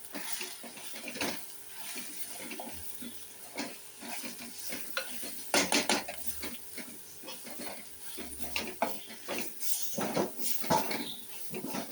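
A spoon stirs coriander powder in a hot pan, intermittent scraping and soft clicks over a faint low sizzle, close and fairly quiet.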